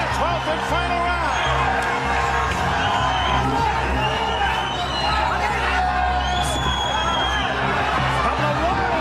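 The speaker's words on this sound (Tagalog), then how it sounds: "the crowd getting into it here again as we're in the final 2-minute 12th and final round" A boxing crowd cheering and whooping through the final twelfth round of a bout, a loud continuous roar full of overlapping shouts and whistles, with a commentator's voice talking over it.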